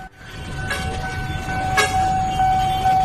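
A KRL commuter train nears a level crossing, with a sustained tonal warning sound ringing over a low rumble and a couple of short bursts, close and moderately loud.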